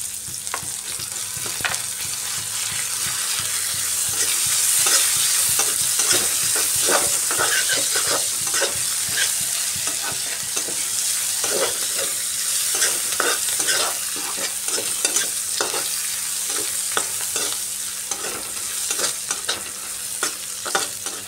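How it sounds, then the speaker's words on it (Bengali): Garlic and chopped onion stir-fry in a pan, a loud close sizzle broken by frequent scraping stirs at an irregular pace throughout, with no one speaking. "পেঁয়াজটা দিয়েও একটু লাল লাল করে ভেজে নিচ্ছি"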